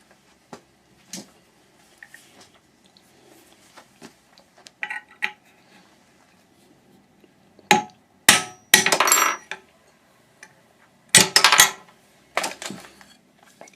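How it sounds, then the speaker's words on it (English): Nail set hammered to knock the spindle out of a hard drive, sharp metallic taps and clinks in scattered bursts, a few louder clusters of strikes among quiet handling noises, close and with no talk. "You just need to put a little nail set in that little hole, and it'll pop right out."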